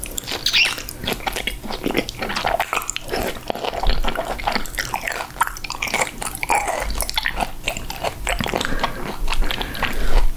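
Someone eating raw swordfish belly sashimi with sesame oil, close wet bites and chewing in a steady rhythm with soft moist clicks, intimate and near.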